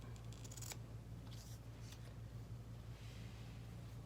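Scissors trimming paper and ribbon at a stamping craft table, a few faint, quick snips near the start and a couple more soon after over a low steady hum.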